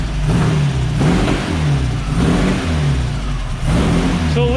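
A Baja Bug engine running loudly up close after its first start, with a rough, pulsing mid-pitched drone that swells and dips in repeated revs, ending with a brief rising whine.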